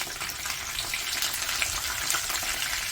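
Thread-wrapped bitter gourd stuffed with keema frying in oil, a steady broad sizzle with a watery, gushing texture that stays even throughout, no voices over it.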